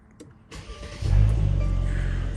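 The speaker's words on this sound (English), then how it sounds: "Okay, so the car is on." A Mercedes C450 / C43 AMG starts up: a click and cabin noise, then the engine catches with a strong low rumble that settles into a steady idle close by.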